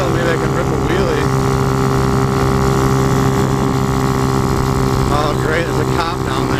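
A motorcycle engine drones steadily in a driving video game as the rider heads over a hill, a loud continuous hum with a player talking over it.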